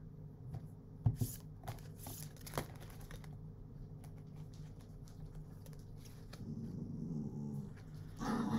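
Tarot cards are handled and drawn from a deck in a quiet room, with soft shuffling rustles and a few sharp card snaps and taps, close and faint.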